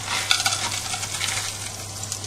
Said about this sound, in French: Donc une bonne noix de beurre qu'on fait fondre, et ensuite on fait revenir nos échalotes.